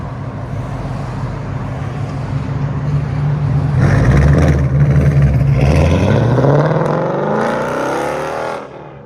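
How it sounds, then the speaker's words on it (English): A 2024 Ford Mustang GT with 5.0L Coyote V8, Roush H-pipe, muffler delete and straight pipes rumbles loudly, building into a rising rev before the roar fades away near the end. "Ford Mustang GT. Roush H-pipe. And muffler delete with quad tips."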